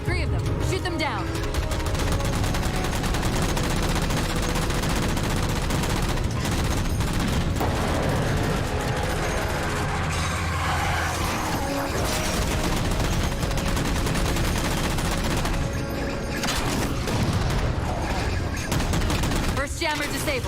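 Sustained gunfire in Halo 4 as jammers are shot down, loud rapid bursts and rattling shots continuing throughout with scattered booms, and a voice talking over the action.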